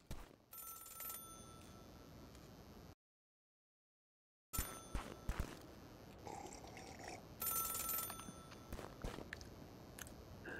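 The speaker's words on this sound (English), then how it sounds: "There's a phone." A telephone rings in bursts of bright, repeated bell tones, broken by a stretch of complete silence before the ringing resumes, fairly faint against shuffling background noise.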